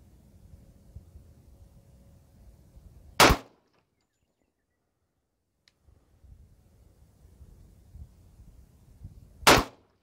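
Outdoor test-firing of Hornady Critical Duty or Winchester Defense handgun bullets: two sharp, loud single gunshots about six seconds apart, with faint low background noise between them.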